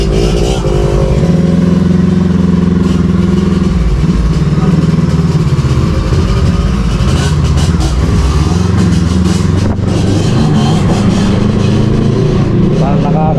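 Motorcycle engine running steadily while riding home, a loud close droning hum with slight shifts in pitch as the bike moves, constant throughout with occasional muffled voices under it.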